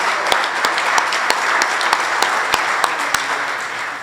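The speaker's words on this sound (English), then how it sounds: "let's give you a big round of applause" Crowd applause for standing veterans at a Veterans Affairs office opening in a senior center, a continuous bed of clapping with one or two close hands striking sharp, regular claps over it for several seconds.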